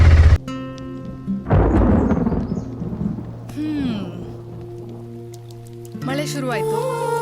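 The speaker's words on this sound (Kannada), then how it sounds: "ಮಳೆ ಶುರುವಾಯಿತು" Rain begins to fall on a foggy evening near Mangaluru, with a soft patter and a low thunder-like rumble mixed among other tonal sounds over a few seconds.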